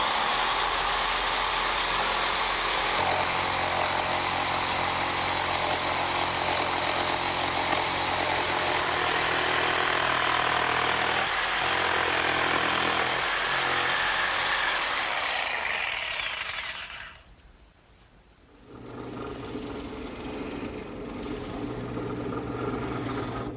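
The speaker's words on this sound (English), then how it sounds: "this portable jigsaw will do just fine" A portable jigsaw cuts along a traced wooden template, its motor buzzing steadily and loudly for about fifteen seconds, then stopping abruptly into a brief near-silence before another machine hum carries on.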